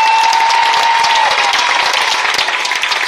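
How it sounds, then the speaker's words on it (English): An indoor audience gives dense, sustained applause for performers who just finished a lightsaber demonstration, loud and close, with a brief steady tone early on and the clapping thinning slightly toward the end. "Yes, you can applaud for them."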